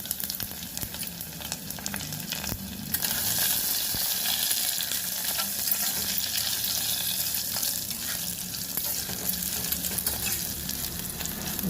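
Garlic, mustard seeds, cumin, curry leaves and dried red chillies sizzle steadily in two spoons of hot oil for a tempering, a loud continuous crackling fry that swells after a quieter start, with no talk.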